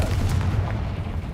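A Bombarda or Confringo blast spell in Hogwarts Legacy, a loud, dense rumbling explosion lasting the whole short moment.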